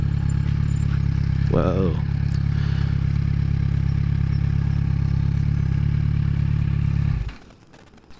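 A 2016–2017 Kawasaki Z motorcycle engine drones steadily up close, with a brief exclamation from the rider, then the sound drops away sharply as the bike comes to a stop.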